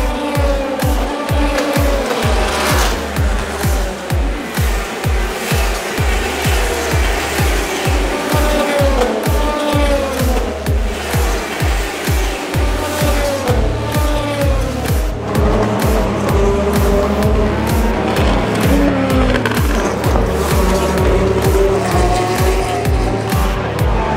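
Race cars at the start of the 2023 24 Hours of Le Mans roar past one after another, a dense, continuous stream of loud engines rising and falling as each car passes nearby, with no speech over it.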